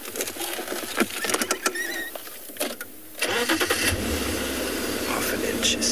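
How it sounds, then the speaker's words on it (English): A safari vehicle creeps forward in the bush, its engine starting up and then running with a steady low rumble through the second half, along with scattered rustling and clicks. "The cub heard the car, disappeared into the thickets."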